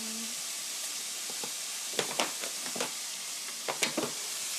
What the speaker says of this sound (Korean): 양파가 살짝 투명하게 될 때까지 볶아주세요